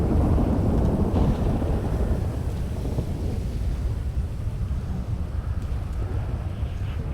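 A video game thunderstorm with continuous loud rumbling wind and rain, a dense, steady roar filling the whole stretch with no clear voices over it.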